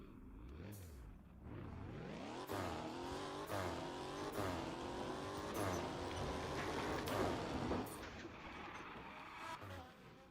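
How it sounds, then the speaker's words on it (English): A Mazda RX-7 in the video game Fix It Up drives past with a rising and falling engine note, several gear-change revs, and a faint tire squeal, heard at moderate distance. "Oh, there goes the RX-7."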